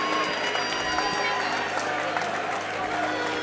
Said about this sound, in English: The crowd is on their feet here for Pat Grzywacz